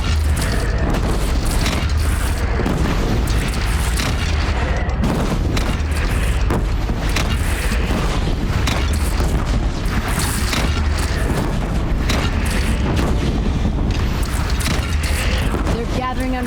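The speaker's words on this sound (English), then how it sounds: "They only have one cannon!" A cannon fires at bandits in Horizon Zero Dawn, and deep booms and explosions roll over one another through a loud, dense battle din. The blasts are sustained and heavy, and voices can be heard in the chaos.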